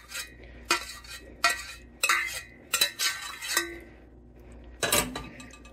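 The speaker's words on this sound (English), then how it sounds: "I'm going to pour the rest over the crackers. Just like that, get all that caramel on there." Caramel is poured and spread over crackers in a pan, with a spatula repeatedly scraping and clinking against the metal in short bursts separated by quieter gaps, close up and with no talking.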